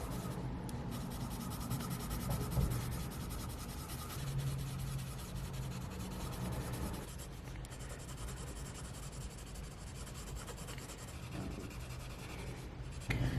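Prismacolor colored pencils shade on paper with a soft, continuous scratchy rubbing, close and fairly quiet, in steady strokes with brief pauses.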